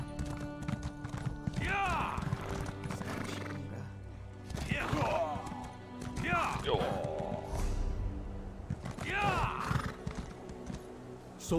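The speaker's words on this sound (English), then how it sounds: "Trying to get my horse faster." Hooves clip-clop at a gallop in the Elder Scrolls Online video game, a steady rapid beat broken by several loud neighs, with game voices speaking now and then.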